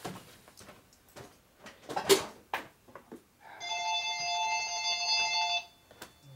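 A phone rings with an incoming call, a loud steady electronic ringtone lasting about two seconds after a series of knocks and handling clatter, with no talk over it.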